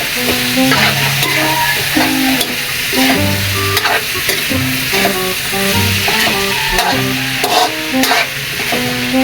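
Beef skin and tendon kilawin is stirred in a pan, with a spatula scraping and clattering in an irregular rhythm over a steady sizzle, close and loud throughout, with no voices.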